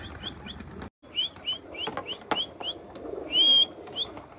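A few pigeons tossed into the air from a loft burst into flight, their wings clapping and flapping in quick bursts amid repeated short, high chirps.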